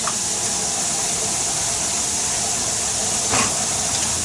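A pressure cooker vents steam in a loud, continuous hiss that holds steady throughout, with a brief sputtering burst near the end and no voices.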